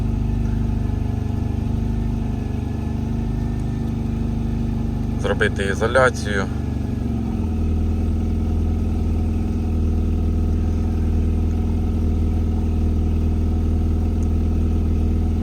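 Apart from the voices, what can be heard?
car engine idling while warming up on LPG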